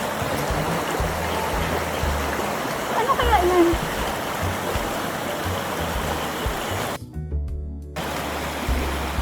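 Continuous flowing stream water with light splashing, steady and close, briefly cutting out near the end.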